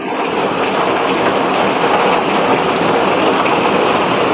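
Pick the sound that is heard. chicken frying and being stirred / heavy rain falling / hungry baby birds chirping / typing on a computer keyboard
heavy rain falling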